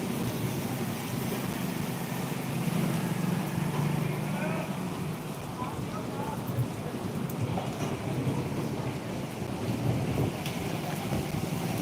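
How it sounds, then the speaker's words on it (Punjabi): Steady rain falls in a Punjab monsoon setting, a continuous broadband hiss with low rumbling beneath, even in level throughout and heard alone without distinct talk. "ਬਾਰਿਸ਼ਾਂ ਦਾ ਆਨੰਦ ਲਓ ਬਾਰਿਸ਼ ਦਾ"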